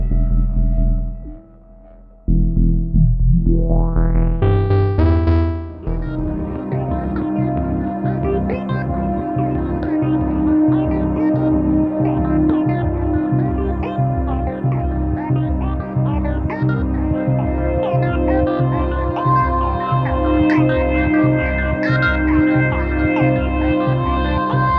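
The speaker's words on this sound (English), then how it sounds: "This electromechanical synthesizer generates sounds by spinning discs, which results in noisy and unstable and very characteristic sound." An electromechanical motor synth with spinning discs plays music: a sliding, swooping tone rises at the start, then a steady pulsing pattern of buzzy, unstable, harmonically rich notes follows, loud and alone.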